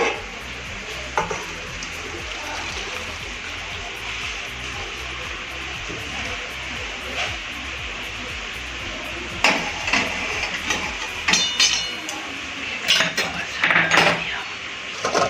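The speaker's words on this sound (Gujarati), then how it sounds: "હવે આને આપણે કાણાવાળા વાસણમાં આનું બધું જ પાણી આપણે નીકાળી દઈશું" Boiled spaghetti water pours out through a holed metal colander in a home kitchen, a steady close wash of splashing with clinks of the pot and utensils rising toward the end.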